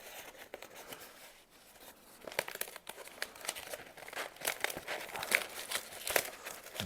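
Cardboard box packaging being peeled away by hand, a run of close crinkling, crackling and tearing bursts that grow busier and louder toward the end, with no talk.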